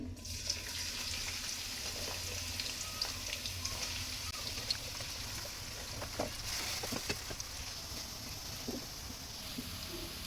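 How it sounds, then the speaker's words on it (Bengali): Onions frying in a pan while cooking eggs, a steady close sizzle with small crackles and occasional stirring clinks throughout, no talk. "এই তো পেঁয়াজগুলো ভাজা ভাজা হয়ে গেছে"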